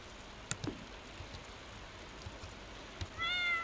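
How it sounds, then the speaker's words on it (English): A short, clear meow from a petted cat in the Stardew Valley farming game sounds near the end, after a few faint clicks over quiet background. "Just wanted to pet the cat."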